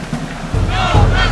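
Angry crowd in uproar on the island of Grenada, a loud, dense mass of shouting voices that swells into a rumbling roar midway through the short burst.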